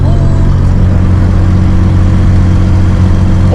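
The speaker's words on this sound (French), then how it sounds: "On entend bien le bruit du V6 en montée là" V6 car engine climbing a hill on a road in Tasmania, heard from inside as a steady, loud low hum with a constant drone throughout and no talking.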